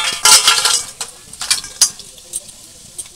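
Crisp homemade fried potato chips rattle and clatter in short bursts, like being tossed in a metal container, loud and close.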